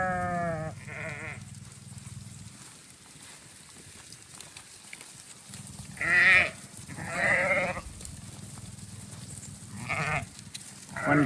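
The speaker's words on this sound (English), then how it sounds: "One good thing about sheep is once you get one going, the rest of them will go as well." Flock of sheep with lambs on a small farm, several loud, wavering bleats from close by, spaced across a low, steady background hum.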